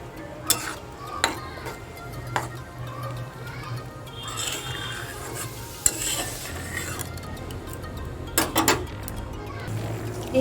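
Sugar-free chutney of tomatoes, grapes, dates and raisins bubbles in a pot while a spoon stirs it, with a soft steady sizzle, repeated clinks against the metal and a faint voice in the background.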